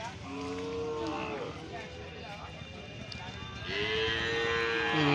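Several cattle at a cattle market moo loudly, long drawn-out calls rising over a busy outdoor crowd, with people talking nearby and one cow bellowing close at the end.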